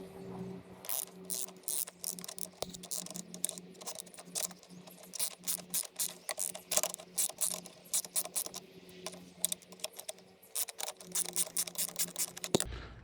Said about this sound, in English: now we need to loosen the two nuts